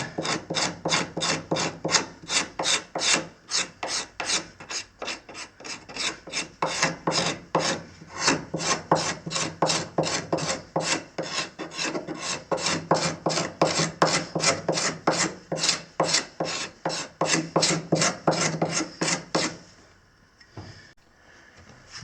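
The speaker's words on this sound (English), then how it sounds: "for the rounded part I use this little rounded scraper" A small rounded scraper works along wooden stairs during carpet removal and restoration, making a fast, steady run of rasping strokes, dozens in a row. The strokes come close and clear, then stop near the end.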